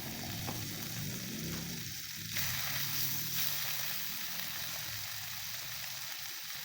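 Carabao meat frying in hot oil gives a soft, steady sizzle with a few clinks and scrapes of stirring, fairly quiet throughout.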